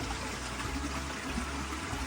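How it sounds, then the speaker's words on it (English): A creek runs beside an Appalachian Trail campsite in the Smokies, a steady, continuous rush and trickle of water close by with no voices. "You got the creek right here running, so you can hear that at night."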